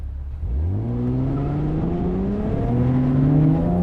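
A 2020 Chevrolet Camaro with a V6 engine pulls away and accelerates hard, its engine note climbing steadily through the gears, loud and close with no talking.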